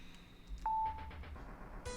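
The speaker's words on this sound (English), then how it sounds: "A cell phone suddenly rings in the silence." A cell phone rings inside a quiet scene of the horror game Scar of the Doll: a single short electronic tone sounds over a hushed, low background.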